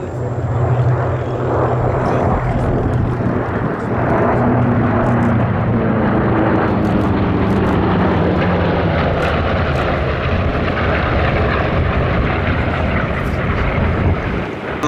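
Propeller warbirds such as a P-47D Thunderbolt fly past at the Duxford Battle of Britain air show, a loud, continuous piston-engine drone with a shifting pitch that swells and fades steadily across the whole stretch.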